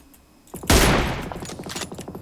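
Automatic gunfire in PUBG Mobile on the Livik map: a loud close burst of rapid shots starts abruptly and rattles on in a quick rhythmic string before tapering off.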